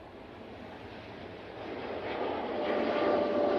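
An airplane departing Manchester Airport, a distant broad jet roar that slowly swells louder as it climbs out, heard alone with some wind across the microphone.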